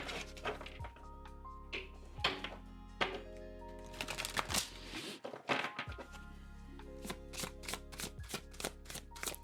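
A deck of cards being shuffled at a table, heard as crisp riffling bursts, flicks and taps at close range, irregular and repeated over several seconds with a brief pause midway.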